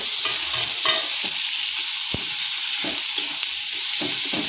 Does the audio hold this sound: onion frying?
yes